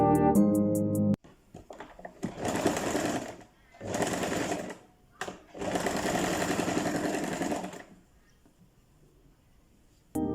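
A sewing machine stitches a folded two-inch hem on a loose dress, running close and loud in several bursts of rapid whirring separated by short pauses.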